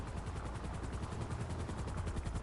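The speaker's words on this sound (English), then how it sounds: "you're gonna have to listen to the helicopter noises" Luxury helicopter in GTA Online, a loud close rotor with rapid rhythmic chopping pulses and a continuous engine roar, heard alone.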